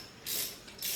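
A ratchet clicks while tightening big bolts on a Nissan Altima, two short quick bursts of ratcheting, faint and close, with no talk.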